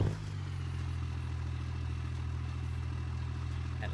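A cold diesel truck engine in the BeamNG Drive video game idles with a low, even rumble and a faint clatter, steady and moderately quiet throughout.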